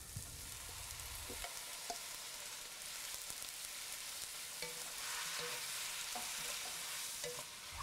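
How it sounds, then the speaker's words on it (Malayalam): Shrimp and vegetables are stir-fried in a pan for rice noodles, giving a constant close sizzle broken by scraping and clinking as the spatula stirs; no one speaks. "ഇനി നമുക്ക് ഇതിലോട്ട് നമ്മൾ കുക്ക് ചെയ്ത് വെച്ചിരിക്കുന്ന ഷ്രിംപ് ആഡ് ചെയ്ത് മിക്സ് ചെയ്യുക"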